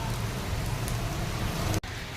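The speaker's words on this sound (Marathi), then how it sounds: "चेंबूरमध्ये हा पाऊस पडत आहे" October rain falling steadily in Chembur, a constant close hiss of drops with a brief dip near the end and no talking.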